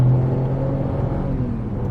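An MG Astor SUV accelerates past 60 on a highway, its engine and road noise forming a steady, close, continuous drone with a low rising hum and no talk.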